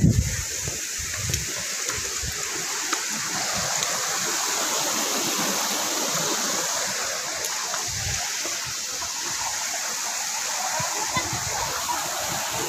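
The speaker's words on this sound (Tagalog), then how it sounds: "yung tubig na yun, yun pahulog doon sa Langit-Langit Falls." River water rushes steadily toward Langit-Langit Falls, a continuous loud broadband roar of flowing stream with splashing, close by and unbroken throughout.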